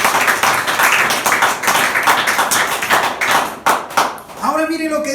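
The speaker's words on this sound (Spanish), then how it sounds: "Denle un aplauso a Cristo" A church congregation claps enthusiastically during a sermon, a loud, uneven burst of applause with scattered sharp claps, before a preacher's voice returns at the end.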